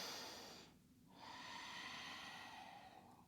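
A person inhales during a yoga hip-opening stretch, drawing a long, soft breath through the nose that swells after a short pause and holds steady, close and quiet, with no talk.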